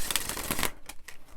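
Oracle cards of smooth Rockpool cardstock are riffled and shuffled by hand, a dense, crisp flutter for more than half a second, then a few softer separate slides and taps, close and alone.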